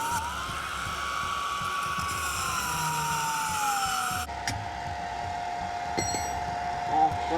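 A cutting wheel slices through the coil springs of a Ford Crown Victoria being lowered, giving a loud, steady high-pitched whine that holds and then drops in pitch midway, continuous with no talk.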